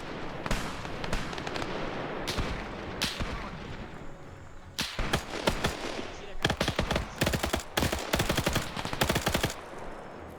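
Sustained gunfire in a Korean War video game airfield assault, with a machine gun opening up in long rattling bursts and scattered rifle shots, loud and close, the firing growing denser and more rapid in the second half.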